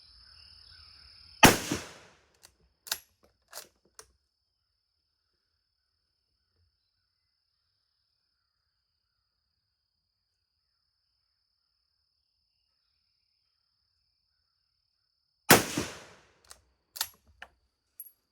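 Two loud, sharp rifle shots from a British No4 Mk2 at an outdoor range, about fourteen seconds apart, each followed by a few clicks of the bolt being worked, with near silence in between.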